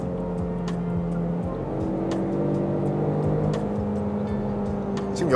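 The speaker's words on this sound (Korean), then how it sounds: "가속을 한번 더 해보겠습니다." A seventh-generation Ford Mustang EcoBoost accelerates on a highway, its engine droning and rising in pitch from inside the cabin. Tyre and road rumble runs underneath, and a few faint clicks sound at moments.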